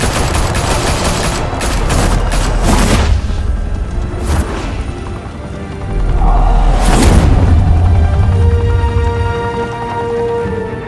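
Heavy gunfire bursts in Batman: The Telltale Series, dense volleys with booming impacts around two, four and seven seconds, loud and sustained over a rumbling background.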